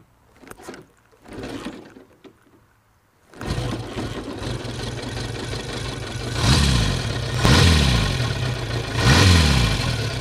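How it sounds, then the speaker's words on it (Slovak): A 1955 Ariel Square Four 1000 four-cylinder motorcycle is kicked over with a few mechanical clanks, then the engine catches and settles into a loud, close idle with several rhythmic blips of throttle. "čo počujete, je zvuk štvorvalca z roku"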